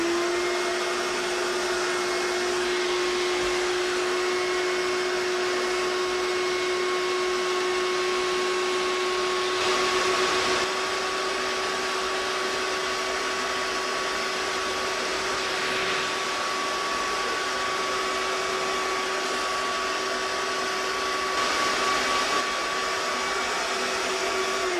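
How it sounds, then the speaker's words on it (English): A vacuum cleaner runs loudly and continuously with a constant whining drone and occasional surges in its roar, sucking up loose static grass from a model layout, no talking. "To vacuum it up, I've already cleaned the hose out here, so we're ready to go."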